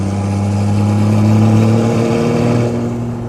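A big-turbo GMC Duramax 6.7 diesel truck pulls hard with a deep, loud, steady engine drone and rising turbo whine, heard close and unbroken for a few seconds.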